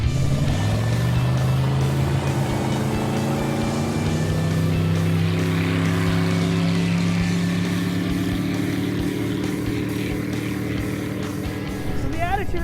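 A 19-foot Caravelle Interceptor 192 SS boat with a 5-liter Mercruiser MPI engine roars close by, its pitch rising steadily as it accelerates, then holding a sustained loud drone.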